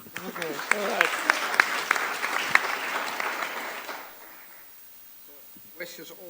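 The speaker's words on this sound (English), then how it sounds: "Applause for him," Audience applause fills a conference hall at the 2019 Nextcloud event in Berlin, a dense burst of clapping that holds steady for about four seconds before fading to quiet, with a brief scattered clap near the end.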